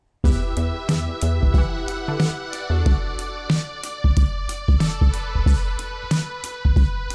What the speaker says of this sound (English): And I've found a synth preset called Classic Brass.